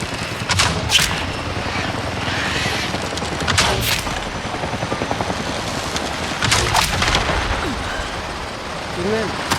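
Thunderstorm rolling through Avatar: Frontier of Pandora, with repeated loud cracks and rumbling bursts over a steady roar of wind and rain, continuing throughout.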